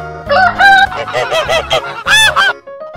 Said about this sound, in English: Goose.